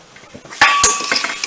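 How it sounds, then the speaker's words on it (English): Pasta stirred in a metal pot on the stove makes a couple of sharp clinks and scrapes, followed by a lighter rattle of utensil against the pan. "Give it one more stir."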